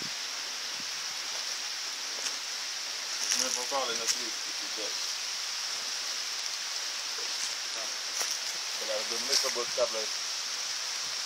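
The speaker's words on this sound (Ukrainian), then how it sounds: "А дощик тепленький паде." Warm, steady rain falls outdoors as an even, continuous hiss that fills the whole scene, while people talk briefly over it.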